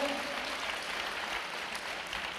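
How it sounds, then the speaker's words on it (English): An audience at a youth festival gathering applauds the volunteers. The clapping is steady and dense, moderately distant, and holds evenly throughout the short stretch. "So let us give a big round of applause for all the volunteers"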